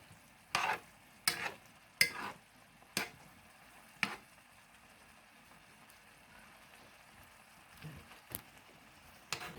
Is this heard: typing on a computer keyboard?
no